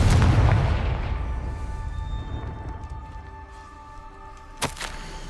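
Confringo explosion spell in the Hogwarts Legacy video game, a heavy booming blast at the start that rolls off into a long fading rumble with sustained tones, then a sharp crack near the end; no talking.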